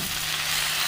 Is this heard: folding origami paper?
no